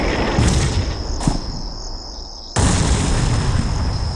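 Artillery shells burst in a combat video game, loud booming explosions with a rumbling wash of debris and a steady high whine, a fresh blast striking midway and the roar continuing afterward.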